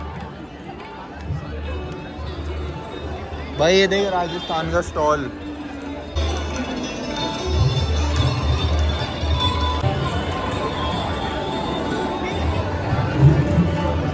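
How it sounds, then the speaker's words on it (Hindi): A dense crowd at the Virasat fair in Dehradun makes a steady hubbub of chatter and shuffling footsteps, with someone speaking close by for part of it. "भीड़ तो एक नंबर है, भयंकर ही भीड़ है भाई, ज़्यादा ही भीड़ है"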